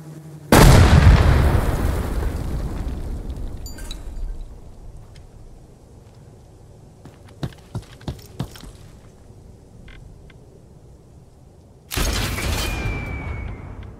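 Artillery strikes in the combat video game Hired Ops: a loud booming blast opens, followed by a quieter stretch with several sharp distant pops, then another heavy explosion crashes in near the end.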